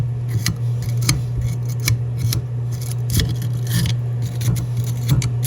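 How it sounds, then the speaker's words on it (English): A wire brush scrubs grime off the threads of a pipe end at an angle stop, with rapid scratchy strokes repeating over a low steady hum, close by. "Wire brush. Clean them threads real good."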